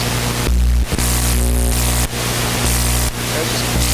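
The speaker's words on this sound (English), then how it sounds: "it basically just makes a ton of noise and reacts to electromagnetic fields and stuff" Harsh electronic static and buzzing hum from a Soma Ether receiver reacting to electromagnetic fields blare loudly, cutting out abruptly several times and shifting in tone between bursts.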